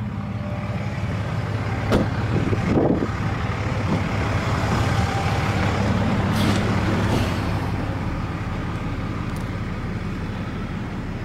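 A 2007 Dodge Ram 3500 SLT with a Cummins 6.7 diesel engine idles with a steady low rumble, broken by a few brief sharp hisses and clunks, heard alone without talk.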